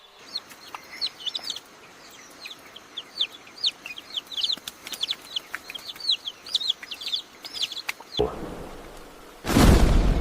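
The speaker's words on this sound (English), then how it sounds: "The Blyth's tragopan is a large, robust pheasant with a compact body and short tail." A Blyth's tragopan, a large, robust mountain forest pheasant, gives a long run of quick, repeated clucking calls at moderate distance, ending in a couple of louder, broad bursts of noise.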